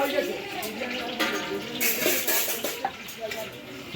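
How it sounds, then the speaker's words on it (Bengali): Bhetki fish fry cooks in oil at a house-warming and anniversary feast, a continuous sizzle with stirring and clinks of pans mixed in, while voices talk nearby. "আর ফিশ ফ্রাই তৈরি হচ্ছে, ভেটকি ফ্রাই।"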